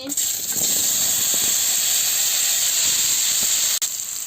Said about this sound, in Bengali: এবার আমি আলুটা ভেজে নিচ্ছি।